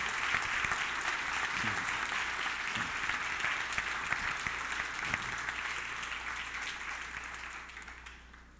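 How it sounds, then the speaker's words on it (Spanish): A church congregation applauds during a sermon, steady dense clapping from many people filling the room, fairly faint and distant, tapering off at the end. "Dale un aplauso al Señor por lo menos"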